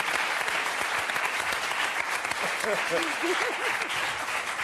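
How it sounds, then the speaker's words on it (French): Studio audience applause on a French Sunday television variety show, a steady, even roar of clapping throughout, with a voice briefly speaking over it near the end. "sous vos applaudissements, messieurs. Pas mal. On lance l'applaud."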